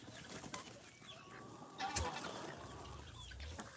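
Backyard homestead chickens clucking at a moderate distance, soft irregular calls over steady ambient noise with a slightly louder burst midway, no talking.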